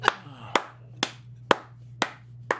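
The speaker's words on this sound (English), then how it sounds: "Clap with me." Six sharp, evenly spaced hand claps ring out about every half second, each a crisp close-up smack over a faint steady hum, with quiet gaps between them.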